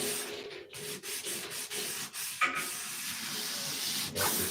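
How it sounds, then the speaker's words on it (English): Wood being sanded by hand, a steady run of rough, scratchy rubbing strokes with short pauses between passes, close and fairly loud, with no talking. "Sand it some more."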